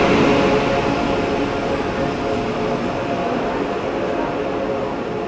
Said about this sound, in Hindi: अपने समय से 2 मिनट बिफोर टाइम प्लेटफॉर्म में एंट्री हो गई है राजधानी एक्सप्रेस की